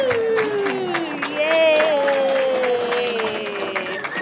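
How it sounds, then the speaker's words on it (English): An audience at a community spiritual gathering claps steadily in dense, sustained applause, with a rising whoop and cheering voices mixed into the sound. "a huge round of applause to Rita."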